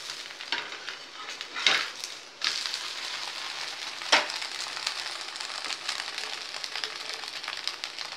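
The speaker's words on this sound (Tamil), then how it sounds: "ப்ரெட் தோசை இருக்கிறதுனால நான் நெய் ஊற்றி சுடுறேன்." Bread dosa frying in ghee on a hot pan sizzles steadily and close, with a few sharper scraping stirs and spatula turns breaking through the continuous crackle.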